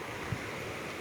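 Water in an Alpine stream or river in Val Campelle, Italy, gives a brief, soft continuous rush with a slight hiss, faint and steady, with no voices.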